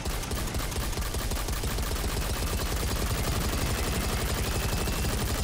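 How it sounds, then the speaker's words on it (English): Sustained rapid automatic gunfire from a gun in the video game Satisfactory, a dense unbroken rattle of shots at steady loud level for several seconds, with no talking. "And then if we start shooting."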